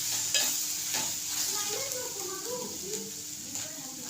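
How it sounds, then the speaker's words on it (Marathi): Drumstick leaves (moringa) being stirred as they fry in a pan, a steady close sizzle with a few scraping stirs of a spatula through the greens. "परत दोन मिनिटांनी हलवते एकदम अशा आता सुरसुरीत झालेली आहे"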